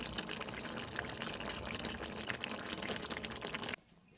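Amudi fish curry with eggplant and potato simmers in a pan with a dense, steady bubbling hiss close by, which cuts off abruptly near the end. No one speaks.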